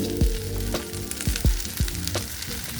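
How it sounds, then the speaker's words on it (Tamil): Drumsticks and tomatoes sautéed with onion and garlic on medium flame: a loud, close sizzle broken by several quick scraping stirs, with no voices. "தக்காளியும் முருங்கைக்காவும் சேர்த்துட்டு மறுபடியும் வதக்கி விட்டுக்கலாம்"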